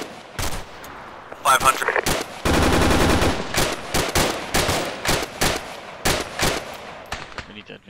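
Loud, close machine gun fire in the video game Arma 3 as a machine gunner shoots in repeated bursts, including one long sustained volley, with a voice speaking briefly between shots.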